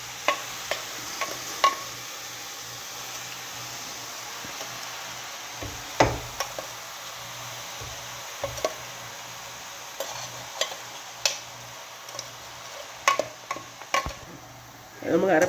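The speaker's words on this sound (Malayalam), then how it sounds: "നമുക്ക് അരപ്പിട്ടിട്ട് നമുക്ക് നല്ലതായിട്ടൊന്ന് മിക്സ് ചെയ്തെടുത്തിട്ട് വരാം" Tapioca (kappa) thoran is stirred with ground coconut paste in a pan, a steady soft sizzle broken by irregular spatula scrapes and knocks against the pan.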